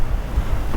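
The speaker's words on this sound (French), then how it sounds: "le vent se lève. Une tempête éclata." Stormy wind effect in a narrated story, a dense low roar with surf-like rushing, steady and loud throughout.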